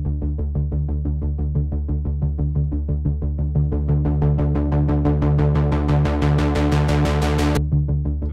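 A pulsing synth patch played in Arturia Pigments: rapid, evenly spaced rhythmic throbs of a buzzy tone whose filter gradually opens brighter, then snaps back darker near the end, with no talking.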